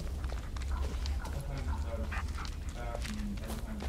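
In the Blair Witch video game, a dog companion pants and whimpers softly beneath a steady ambient background hum, with someone talking over the sound.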